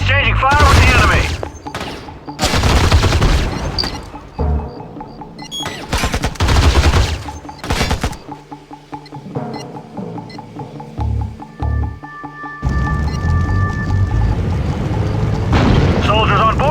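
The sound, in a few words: gunfire exchange with the enemy in the video game Act of War: Direct Action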